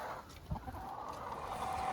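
Soft clucking from a few chickens, quiet and close, with a brief louder cluck early on.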